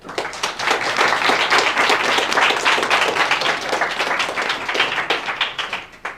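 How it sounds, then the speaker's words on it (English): A crowd applauds loudly and steadily for several seconds at an innovation pitch event, the clapping thinning out toward the end. "So I would like to raise an applause for everyone today."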